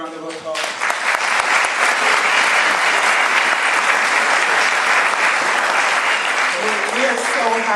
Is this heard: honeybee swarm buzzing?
no